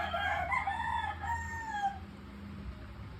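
Rooster crowing close by: one loud, drawn-out cock-a-doodle-doo lasting about two seconds, then fading into quiet background.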